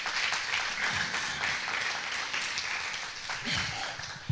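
A crowd applauding, sustained clapping that swells and holds, fairly loud, with a few voices faintly underneath.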